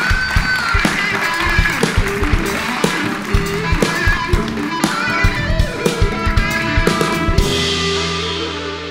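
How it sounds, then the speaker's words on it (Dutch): An audience claps enthusiastically at a late-night talk show on internet freedom, a dense steady patter of applause welcoming a guest that fades out near the end. "Dames en heren, een hartelijk applaus voor Christian Hesselman."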